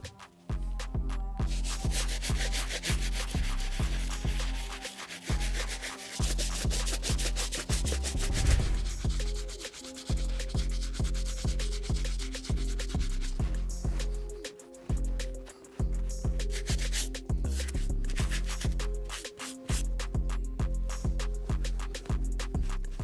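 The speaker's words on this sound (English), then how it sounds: "I'm just gonna scrub in a circular motion as well" Stiff-bristle brush scrubbing the sole and midsole of a Travis Scott Jordan sneaker in circular motions, a steady rhythmic rubbing close up with brief pauses between strokes and a fuller burst partway through.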